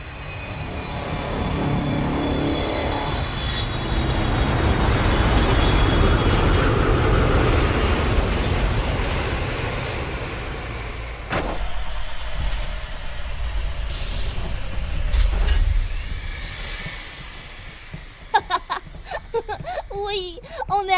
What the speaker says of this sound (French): Oui, on est arrivé. Atterrissage réussi.